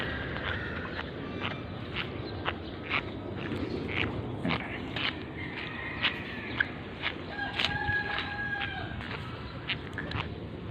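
A flock of large backyard chickens clucking and calling, with roosters crowing at intervals over steady outdoor rustling and footsteps, moderately loud and close throughout.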